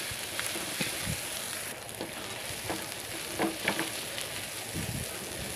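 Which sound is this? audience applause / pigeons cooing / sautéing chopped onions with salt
sautéing chopped onions with salt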